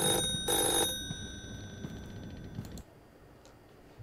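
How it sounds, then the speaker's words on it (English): An old-style telephone rings inside a horror video game, a bright metallic bell burst at the start that fades into quieter ticking and clicks, with no voices over it. "The phone's ringing, Bebe Numkin."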